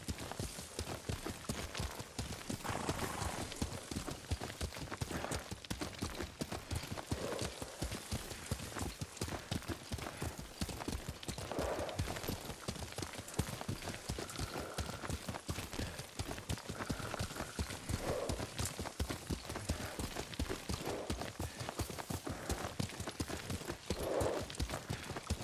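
Horse hooves clip-clop at a steady riding gait in the samurai game Ghost of Tsushima, a continuous rhythmic patter with faint ambient game sounds behind it.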